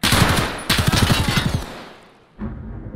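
Automatic gunfire in Escape from Tarkov: two rapid bursts of loud, close shots cracking in quick rhythm, followed by a decaying tail and a later softer rumble.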